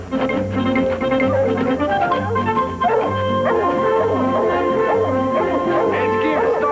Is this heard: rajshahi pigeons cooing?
no